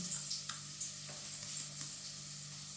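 Food sizzles and fries in a pan at home, a soft steady crackle at moderate distance with occasional light stirring clicks and no talk.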